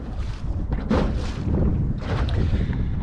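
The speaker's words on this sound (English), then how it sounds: "Which is not helping with the wind problem." Strong wind blows across a wide open flat on the Tennessee River, buffeting the microphone in loud, gusty rumbling surges with no voices.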